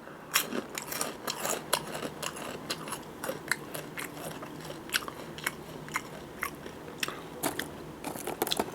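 Nongshim drumstick-shaped chicken-flavoured fried snack with a breadcrumb coating crunches close up, loud crisp repeated bites and chewing in an uneven rhythm, with no talking.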